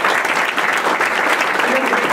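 Dense audience applause at a board presidency handover ceremony, many hands clapping together steadily and close for the whole stretch.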